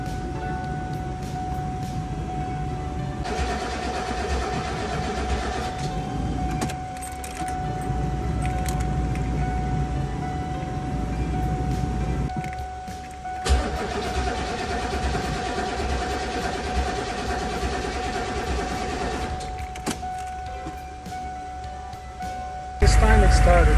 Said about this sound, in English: These big diesel engines take a lot of cranking power.